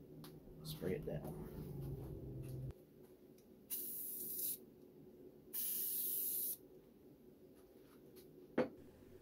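Two short hissing bursts of spray adhesive from an aerosol can onto heater box seals of a 1968 Dodge Charger, separated by a brief pause, with handling noises before and a sharp knock after.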